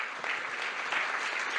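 A crowd at a book presentation held with the Madres de Plaza de Mayo applauds steadily, a thick even wash of many clapping hands at moderate distance with no talk over it.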